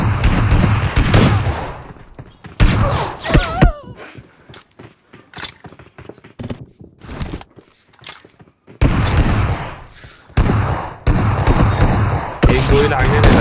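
Gunfire in a Wow Mode 2v2 match of a shooter video game comes in loud rapid bursts, with clusters of shots at the start and end and sparser scattered shots in between.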